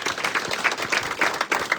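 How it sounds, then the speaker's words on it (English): Applause from the audience at a school town hall meeting, a steady patter of many clapping hands heard at moderate distance, continuous and even throughout the brief moment. "could we give him a round of applause?"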